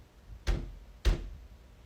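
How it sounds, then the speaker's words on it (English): Knocking at a basement door at night: two dull, muffled thuds about half a second apart, faint and hollow against a quiet background. "a knocking sound started playing at the basement door"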